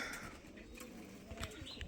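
Pigeons coo softly in an outdoor loft set-up, a faint, low burbling layered over steady background noise, with a few brighter chirps near the end.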